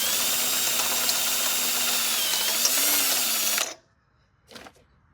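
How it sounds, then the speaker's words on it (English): A step drill bit hogs out a hole for a bolt during steering work on a vehicle, a steady loud whine for a few seconds that cuts off abruptly, followed by a short faint mechanical clunk. "decided to use the step drill"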